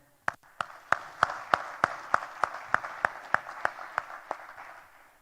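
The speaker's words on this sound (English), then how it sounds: "So a big round of applause for everyone who made us proud for being here today." Hands clap in a slow, evenly spaced rhythm, about fifteen sharp claps in a row, fairly close and moderately loud, as a summit audience applauds at a grand finale event.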